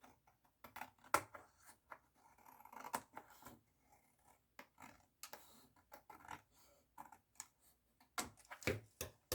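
Scissors cutting blue cardstock for a handmade journal set, with a series of quiet, crisp snips and small crunching cuts at an uneven pace, close up and faint.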